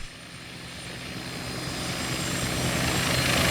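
A Westland Scout helicopter engine in Microsoft Flight Simulator 2020 runs with a continuous turbine whine and rotor drone that grows slowly louder, heard alone without talk.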